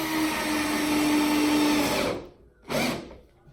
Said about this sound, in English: So now I got to put screws in right about here to attach it to the front bench.